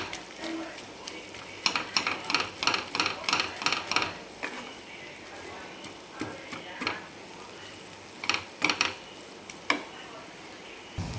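Chicken masala stirred with cheese slices in a pan, a spatula scraping and clinking against the pan in quick rhythmic bursts, then sparser scrapes over a quiet background.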